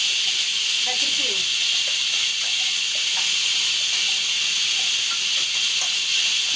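A pressure cooker whistle releases steam in a steady, loud hiss that runs unbroken through the whole stretch, with faint kitchen clatter underneath.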